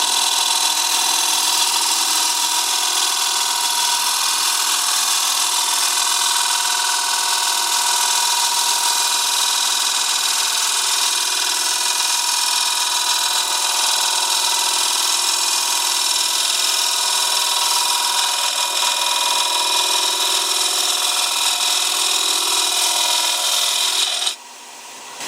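A chisel cuts a dry, rough-turned wooden bowl blank spinning on a lathe, giving a steady, loud, close scraping hiss that holds unbroken for about twenty-five seconds and then stops abruptly.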